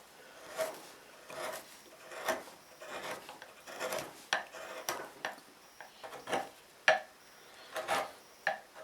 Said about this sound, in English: I'll take my trusty spoon gouge and just start working this material away